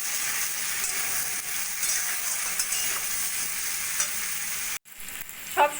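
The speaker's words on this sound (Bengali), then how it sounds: "সবজিগুলো একটু ভাজা ভাজা করে নেবো" Vegetables for Bengali shukto fry with salt and turmeric in a pan, a steady close sizzle with stirring scrapes throughout, a brief dropout near the end, then clinks and louder stirring.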